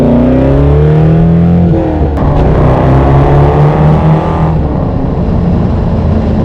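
A C5 Corvette sports car engine runs very loudly nearby, its deep rumble rising and shifting in pitch as it revs, with no voices.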